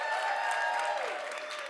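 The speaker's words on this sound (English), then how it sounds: "Give her a huge round of applause." Audience applause at a Sundance 2026 event, a steady wash of clapping at moderate level that holds for the whole stretch, with a faint tone sliding underneath.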